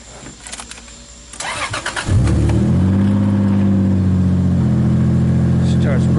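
A 2JZ engine in a drift truck, started just after the battery is connected: a few faint clicks, then a short crank that catches abruptly into a loud, steady, rumbling idle right beside the listener.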